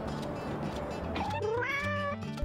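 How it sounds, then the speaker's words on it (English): A pet kitten meows clearly once, a rising then falling cry, close and alone with a little soft handling noise before it. "The kitty gained spider powers."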